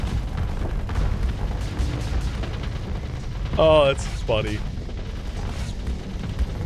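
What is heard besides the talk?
starship explosions in video game Starsector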